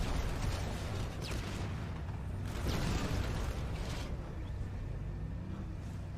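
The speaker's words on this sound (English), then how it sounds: "Grenade! Grenade! Move!" In the Halo 2 video game, a grenade detonates with a deep, booming rumble that swells amid dense low-frequency battle noise, followed by further muffled blasts and sustained roar.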